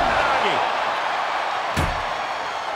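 A single sharp slam of an ambulance door rings out during a professional wrestling match, a brief loud impact over steady crowd noise and ongoing commentary.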